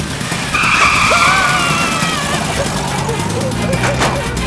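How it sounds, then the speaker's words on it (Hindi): A car squeals its tires and races off in a loud, close skid with a revving engine, the screech bending upward over constant engine roar while someone talks over it. "जल्दी गाड़ी स्टार्ट कर जल्दी कर जल्दी जल्दी स्टार्ट नहीं हो रही धक्का मार धक्का मार एक मिनट स्टार्ट हो रही"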